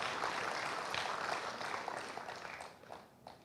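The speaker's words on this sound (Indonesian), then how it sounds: "Saya mohon tepuk tangan dulu untuk ini ibu-ibu yang luar biasa" An audience claps for women being honoured at a talk show and award ceremony on stunting prevention in Medan. The applause is a faint, distant patter that stays steady, then thins out near the end.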